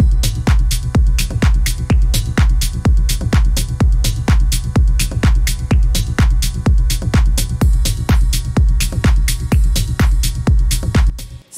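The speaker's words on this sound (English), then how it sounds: "Let's take a look at these drums" A punchy electronic drum loop repeats at a steady tempo, with booming kicks and crisp snappy hits driving an even, continuous groove.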